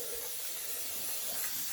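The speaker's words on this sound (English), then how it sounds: "I'm going to spray it down with a bit of oil." Cooking oil spray hisses briefly onto a big 9x12 baking pan, a soft close airy spray that is fairly quiet and heard alone.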